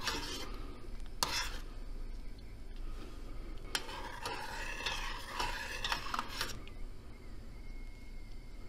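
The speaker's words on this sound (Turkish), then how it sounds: "Şöyle hafif hafif karıştıralım." A spoon stirs milk curdling with lemon juice in a pot, soft repeated scraping and swirling with a few sharper clinks against the metal, fairly quiet and with no voices.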